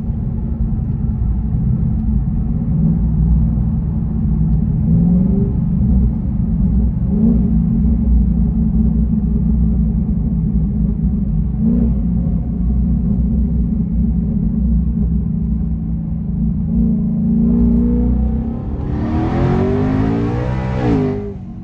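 A Hellion twin-turbo Mustang engine drones loudly while driving, a deep steady rumble from inside the car that builds into a sharp rising rev with turbo whine near the end.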